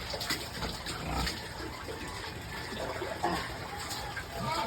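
Pigs kept in a pen grunt and shuffle amid splashing, wet sounds, a busy, continuous mix of close animal noises and water with faint voices in the background.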